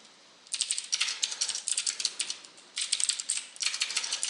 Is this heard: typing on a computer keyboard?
yes